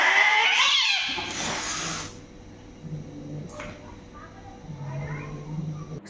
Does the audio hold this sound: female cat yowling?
yes